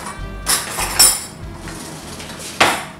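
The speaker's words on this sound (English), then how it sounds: "and just take this spoon along the edges" Metal spoon scraping and clinking in a kitchen, a few sharp clatters spaced unevenly over a quiet background, close and moderately loud, without voices.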